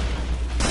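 A grenade goes off in the video game Killing Floor, a short, dense burst of noise that swells suddenly at the end of a loud, rushing moment.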